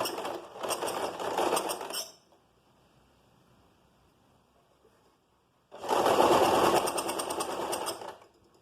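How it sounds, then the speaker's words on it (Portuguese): A sewing machine runs a straight seam close along a fabric edge in two steady bursts of stitching, roughly two seconds each, separated by a long quiet pause, close and clear. "E vamos fazer uma costura bem rente aqui na borda. Costura reta mesmo."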